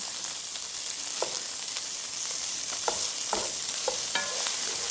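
Beef and darkening garlic fry in a pan for Korean beef zoodles, giving a constant bright sizzle with scattered spatula taps and scrapes, close and unaccompanied by speech.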